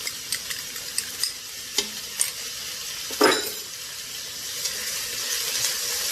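Shredded carrots and garlic being stirred and tossed in a hot pan, with a steady sizzle and irregular scraping clacks of a utensil, one louder stir burst near the middle, no talking.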